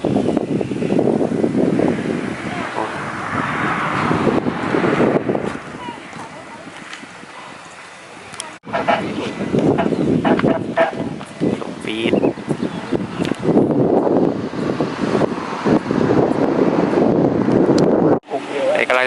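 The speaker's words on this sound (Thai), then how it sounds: "โอ้ ลมอย่างดีเลย" Strong wind buffets the microphone in loud, rumbling gusts, with people talking underneath and a couple of brief dropouts.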